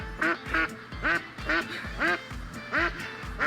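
A mallard duck quacks in a rapid, steady series of about seven loud, close calls, each evenly spaced, with no talking over them.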